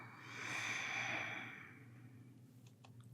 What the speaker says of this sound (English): And then heavy exhale.